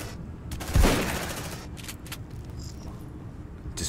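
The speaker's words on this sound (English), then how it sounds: "Let's shotgun him in the face." A shotgun blast in the sci-fi squad game Aliens: Dark Descent, a single loud boom with a brief rumbling tail, followed by faint gameplay ambience.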